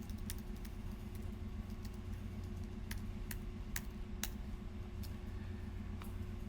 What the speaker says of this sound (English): I'm going to just type that in a cell here